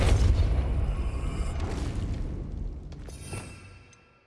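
A Depulso spell is cast in Hogwarts Legacy: a heavy booming whoosh that hits hard at the start and then fades out over a few seconds, with faint magical shimmer as it tails off.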